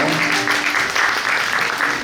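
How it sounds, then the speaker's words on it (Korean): Audience applause for the musical actors and director at the close of a post-show audience talk for the Korean musical Pungwolju, a dense, steady wash of clapping through the whole moment with a faint voice underneath. "박수 한번 부탁드리겠습니다"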